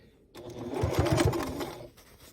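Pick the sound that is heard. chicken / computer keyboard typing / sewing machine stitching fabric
sewing machine stitching fabric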